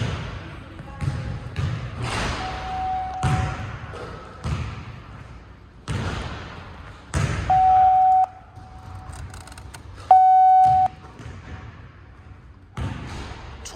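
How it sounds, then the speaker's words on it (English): A biofeedback system sounds steady electronic tones while a basketball free throw is practised, with several sustained beeps ringing out between dull ball bounces and bursts of talk. "biofeedback beeped at him when he got out of position"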